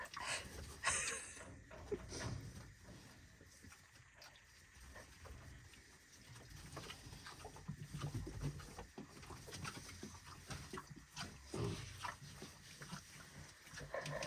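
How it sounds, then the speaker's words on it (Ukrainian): Faint, scattered grunts and snuffling from a sow and her piglets come and go over a quiet, rustling farmyard background. "подивилися на свині"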